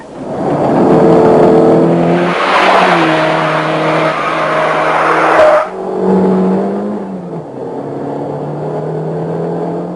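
A 1984 Volkswagen Golf GTI drives and corners with a loud, close engine note that climbs and falls with revs, a brief surge of roar midway, then a steadier lower drone with rushing wind.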